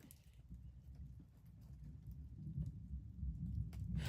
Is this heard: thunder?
yes